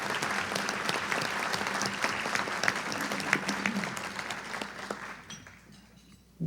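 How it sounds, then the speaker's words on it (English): Sustained audience applause at a 2009 sports Hall of Fame ceremony dinner, a dense roomful of clapping that holds steady and then tapers off toward the end. "If you will kindly join me in giving these folks a round of applause for their contributions"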